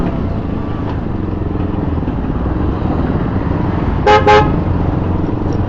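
Two short car horn toots sound through a constant roar of motor traffic and motorcycle engines on a jammed, potholed road in Bangladesh, heard from a bike, with no talk.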